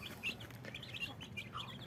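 Mother hens dust bathing in soil give soft, faint clucks and chirpy calls in a brief, quiet stretch, with a low rustling background.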